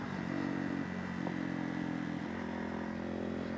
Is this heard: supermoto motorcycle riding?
yes